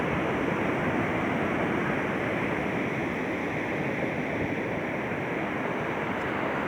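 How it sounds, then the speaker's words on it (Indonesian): Ocean waves surging onto the shore at Cilacap, near Nusakambangan, with wind pushing them landward; a steady, loud, broadband roar of surf and wind holds without pause, with no talk. "Semakin siang itu ombak semakin ke darat, karena pengaruh angin juga."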